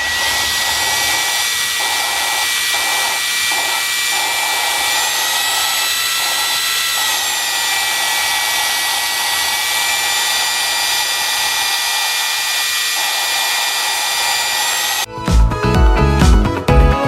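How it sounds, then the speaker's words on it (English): Valves from a Toyota 2JZ engine are lapped into their seats with a power tool, giving a steady, loud whirring drone throughout, with a brief clattering, rougher burst near the end. "So all you're doing is just pretty much lapping it. You're making a new seat is what it's pretty much doing."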